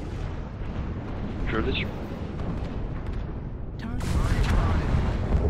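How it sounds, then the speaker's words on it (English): Rumbling artillery strike explosions in MechWarrior Online, a low continuous boom that swells near the end, with brief radio voice callouts over the top. "Artillery strike online."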